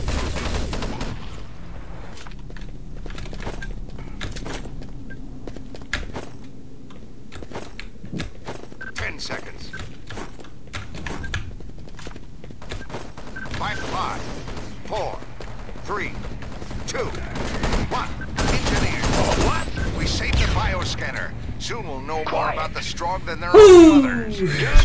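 Scattered gunshots and pistol fire in the sci-fi shooter game Enemy Territory: Quake Wars on the Ark map, with irregular shots, footsteps and mechanical clanks throughout, building toward a louder cluster near the end under faint voice chatter.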